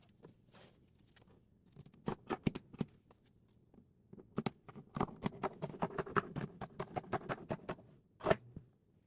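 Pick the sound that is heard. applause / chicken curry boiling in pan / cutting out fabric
cutting out fabric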